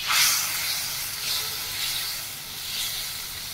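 Tangra fish dropped into hot oil in a pan, a loud steady hiss and sizzle that swells and eases in waves, with no talking.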